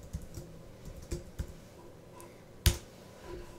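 Keystrokes on a computer keyboard, a few scattered soft clicks with one sharper tap near the end, close and quiet with no talking.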